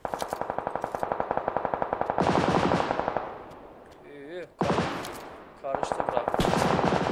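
Rapid automatic gunfire from the battle royale game PUBG Lite, loud and close, with bursts of evenly spaced shots broken by a short lull and resuming at the end.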